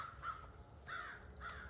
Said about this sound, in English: the birds think I'm here to give them food